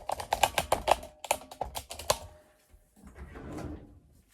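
A bathroom drawer holding hairbrushes is handled close by: a run of sharp clicks and rattles, then a brief soft sliding rustle as it moves, with no talk.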